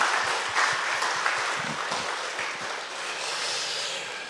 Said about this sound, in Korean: 우리 한번 아버지들을 위해서 큰 박수로 한번 우리 격려하겠습니다.